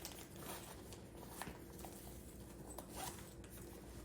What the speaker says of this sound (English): And I'm zipping everything up.